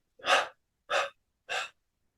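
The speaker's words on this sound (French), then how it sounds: "On expire en 3 fois et on arrête un petit instant de respirer." Three deep, breathy exhalations in steady succession during a guided meditation breathing exercise, each a short close whoosh of air, followed by silence as the breath is held.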